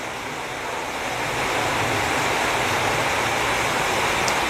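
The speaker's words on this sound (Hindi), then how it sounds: "पानी स्पीड से आ रहा है" Water rushing fast in a loud, steady broadband roar, growing slightly stronger after the first second and then holding constant, with no speech over it.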